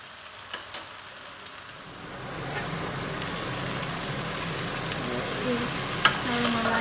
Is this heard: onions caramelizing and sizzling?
yes